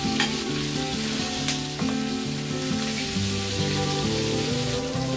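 Chicken and white onion sauté in a pan with a steady, close frying sizzle that continues without a break, over quiet background music.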